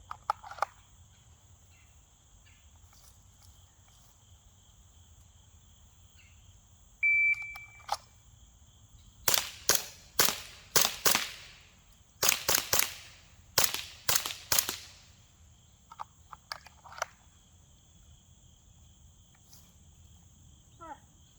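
A cluster of sharp, snappy shots from an Umarex Glock 19 Gen5 airgun pistol fired with an optic mounted, loud and near, coming in quick bursts after a short beep, with faint insect chirping behind.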